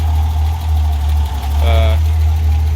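A car engine idling steadily at close range after an oil cooler install, a constant low hum. A brief tone sounds near the middle.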